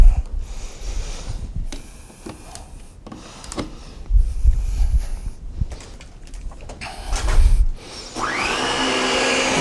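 Dyson DC17 vacuum cleaner with a newly replaced brushbar and belt, heard as scattered clatter and handling thumps before the motor settles into a steady, loud whirring drone near the end.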